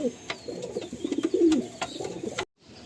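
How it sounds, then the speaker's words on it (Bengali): Madrasi pigeons give a run of soft, rolling coos close by, several overlapping murmurs with brief clicks of movement, ending in sudden near-silence. "আসুন আর দুটো পায়রা আছে"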